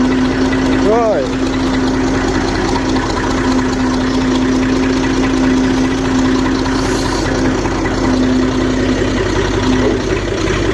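A Massey 35 tractor engine runs close and loud at a steady idle, a rough low chug throughout, with a brief squeal near the start.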